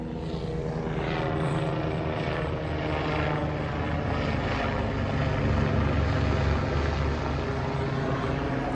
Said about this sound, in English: Now that helicopter got his spotlight on.